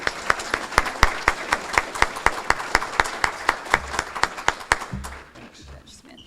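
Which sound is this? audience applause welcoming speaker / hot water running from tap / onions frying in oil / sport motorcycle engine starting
audience applause welcoming speaker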